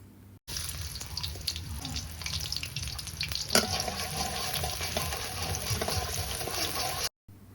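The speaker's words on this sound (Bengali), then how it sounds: "কড়াইতে সয়াবিন তেল দিয়ে দিচ্ছি 4 টেবিল চামচ পরিমাণ, এবং পেঁয়াজ কুচি দিয়ে দিচ্ছি 1 কাপ পরিমাণ" Chopped onions hit hot soybean oil in a wok, starting a sudden loud hiss that settles into a steady crackling sizzle with scattered pops, close by, cutting off abruptly at the end.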